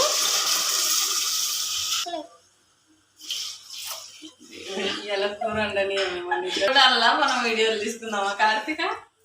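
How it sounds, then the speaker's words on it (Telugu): Water pours into a pot of home-cooked mutton curry in a steady, close rush for about two seconds, then stops. A voice talks over the rest. "నెక్స్ట్ దీంట్లో కొద్దిగా వాటర్ యాడ్ చేయాలి."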